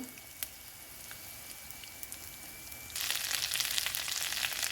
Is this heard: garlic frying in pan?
yes